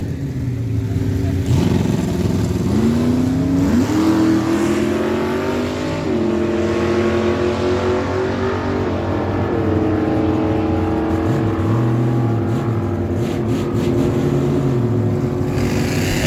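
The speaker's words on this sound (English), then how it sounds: "Chris Fairweather bringing in the 2010 Chevy Colorado on the left side of the track, 11:85 dial." Drag racing cars, a 2010 Chevy Colorado and a 1967 Pontiac, launch down a dragstrip at a fall meet, their engines roaring loud and steady throughout with rising gear-change tones.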